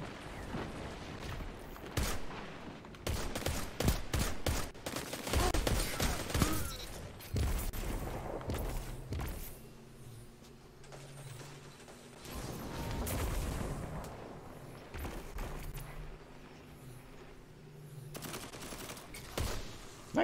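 Bursts of automatic and single-shot gunfire in a Destiny 2 Crucible match, clustered volleys with gaps between them, some louder close shots and quieter stretches of game noise, no talk.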